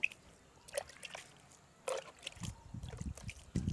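Water lightly sprinkled over freshly sown seeds in a rooftop garden, giving soft, close trickles and splashes in short bursts with quiet gaps between them.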